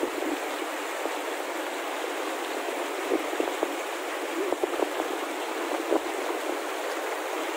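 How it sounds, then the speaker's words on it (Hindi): Fresh spring water flows in a valley stream in Kumrat valley, a steady close rushing hiss with a few brief splashy ticks, no voices present. "अभी हम इसमें ताज़ा चश्मे का पानी भरेंगे।"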